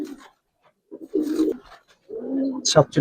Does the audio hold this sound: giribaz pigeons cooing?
yes